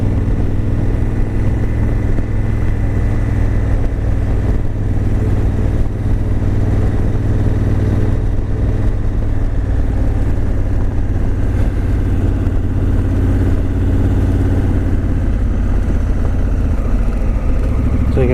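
A motorcycle rides along a road after a cyclone, its engine droning steadily and close up for a long stretch, with a constant low rumble and no speech.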